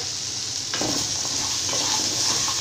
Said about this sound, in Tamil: எல்லாத்தையும் சேர்த்துட்டு நல்லா இந்த மாதிரி வதக்கிக்கலாங்க